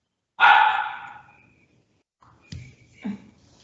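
A single sharp, close dog bark rings out, followed after a pause by a couple of softer short yips or huffs.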